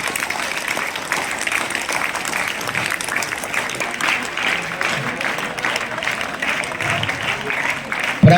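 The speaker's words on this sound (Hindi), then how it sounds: "आप तालियां बजा के इनका सम्मान करें।" Sustained applause from a school assembly crowd honouring a student at a government senior secondary school ceremony, steady dense clapping throughout with a louder burst at the very end.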